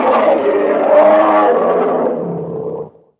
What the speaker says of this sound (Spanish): Vamos a escuchar ahora el rugido de Leo Carcha, que ya me imagino que va a ser un rugido poderoso.